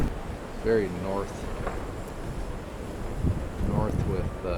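Blizzard wind gusting through downtown Regina in November, a steady rushing roar with swelling westerly gusts, close and loud on the microphone, with someone talking over it now and then.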